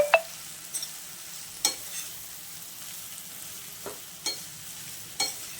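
Jackfruit vegetable sautéing in a pan, a soft continuous sizzle broken by several sharp spatula scrapes and taps as it is stirred, close and quiet.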